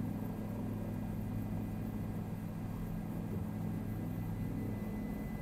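A helicopter in Microsoft Flight Simulator 2020 produces a steady, even rotor and engine drone throughout, moderately loud with no voices.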